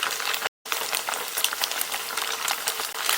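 Tofu pan-fries in oil in a wok while being browned on both sides for hongshao tofu, giving a dense, steady sizzle that crackles loudly and close throughout with a brief dropout near the start.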